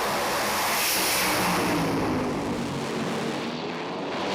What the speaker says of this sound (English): Both cars putting cylinders out there again.